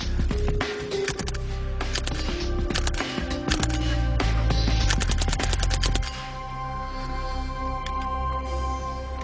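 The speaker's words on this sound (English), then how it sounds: "the bulk of the noise you heard was the bullet impacting on that steel plate" Suppressed Mark II Sten gun firing bursts whose bullets clatter against a steel plate: rapid metallic rattling volleys in several quick strings, fairly close, followed by a quieter tail with no voices.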